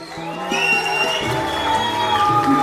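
An audience at a hotel launch event cheers and claps, with a steady crowd roar, scattered shouts and a few rising whistle-like tones over it.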